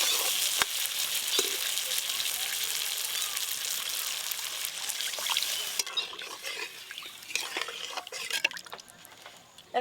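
Water poured into a pan of masala with chopped tomato frying in oil, a strong hiss and sizzle that drops abruptly partway through, followed by quieter bubbling, stirring and clinks.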